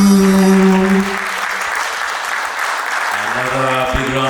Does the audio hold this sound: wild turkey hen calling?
no